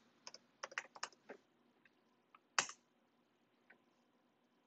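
Keystrokes on a computer keyboard while entering a terminal command, a quick burst of close clicks, a pause, then a single sharp tap and a few isolated presses in a quiet room.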